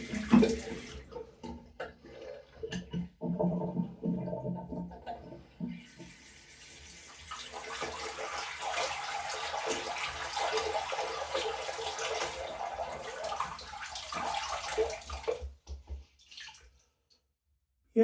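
A bathroom sink during a wet shave with a Muhle R41 safety razor: soft drips and brief splashes come first, then a tap runs steadily for several seconds to refill the basin before shutting off. No one speaks.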